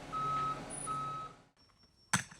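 A concrete truck reversing on a slab pour job gives two loud steady reversing beeps over a low diesel rumble, then the engine drops away and a sharp hiss of air brakes bursts out.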